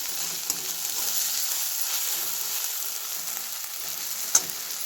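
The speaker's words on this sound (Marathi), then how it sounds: "हे व्यवस्थित भाजून घ्यायचं." Chutney spice mix roasting in a pan for a bitter gourd curry gives a steady, close sizzle throughout, with a couple of faint stirring clicks and a sharp tap near the end.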